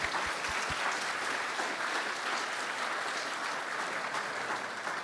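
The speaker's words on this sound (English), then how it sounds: "So let's give ourselves a round of applause" A room full of donors at a charity fundraiser applauds steadily for several seconds, broad even clapping with a cheer-like texture and no talking over it.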